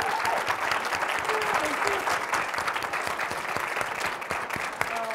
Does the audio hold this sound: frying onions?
no